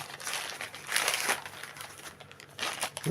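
Plain plastic packaging bag around a boxed smartphone crinkles in bursts close by, with louder crumpling at about one second and again near the end, unaccompanied by speech.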